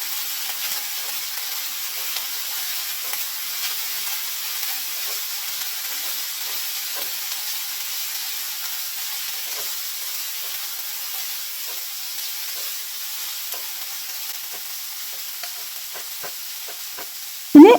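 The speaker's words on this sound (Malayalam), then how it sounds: "എന്നിട്ട് ഹൈ ഫ്ലെയിമിലിട്ട് നല്ലതുപോലെ ഒന്ന് റോസ്റ്റ് ചെയ്തെടുക്കാം കേട്ടോ" Chicken masala with green peas roasting on high flame gives off a steady, even sizzle and hiss that continues unbroken throughout, with faint scattered crackles and a sharp clatter at the very end.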